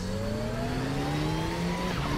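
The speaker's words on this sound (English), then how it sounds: "So to my knowledge, this is the only turbo engine in the pack," Turbocharged KTM X-Bow GT4 race car in the RaceRoom sim racing game accelerating steadily, a loud close engine note climbing smoothly in pitch with no one talking.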